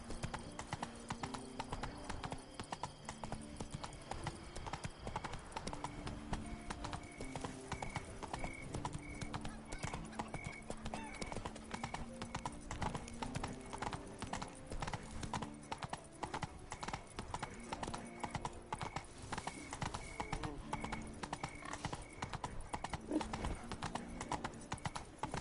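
Hooves of Roach, Geralt's horse in The Witcher video game, galloping in a steady rapid clip-clop rhythm that runs throughout, close and continuous, with music and faint game ambience underneath.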